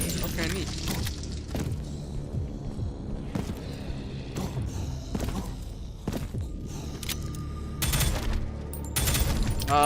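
Alternate fire from a weapon in the retro shooter Prodeus, a series of sharp gunshot bursts with mechanical clanks scattered through the clip, sitting beneath a player's voice.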